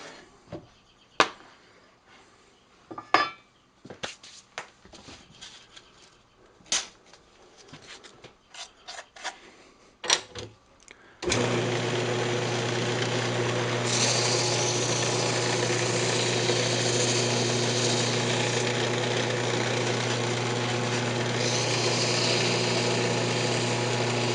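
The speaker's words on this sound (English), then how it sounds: "Now we're just going to go ahead and sand it." A turned yew wood box on a lathe: scattered scraping taps give way midway to a continuous loud sanding whir with a steady motor hum, running unbroken to the end.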